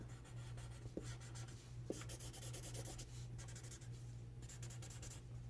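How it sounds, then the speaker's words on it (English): A pencil pressed firmly while outlining a drawing on paper gives faint, close scratchy strokes in short bursts, with no voices. "What I like to do is start by outlining everything, pressing down as you outline."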